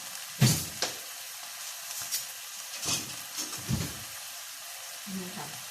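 Hoy lai clams dry-roast in a hot pan, giving short bursts of sizzle and clattering shells as they are stirred, spaced through the stretch with someone talking over them.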